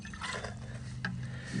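Isopropyl alcohol is poured out of a container with a faint, soft trickling splash. It lasts under two seconds, with no voices.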